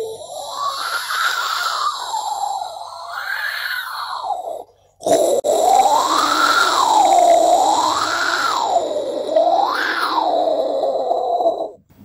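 A mimicry artist voices a cyclone storm, a howling wind-like tone that swoops up and down in slow waves, with a brief gap midway before a louder second stretch.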